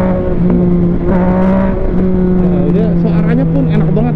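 A big motorcycle engine revs loudly and close by, its steady drone swelling and dipping in pitch as the throttle is worked, with no talk over it.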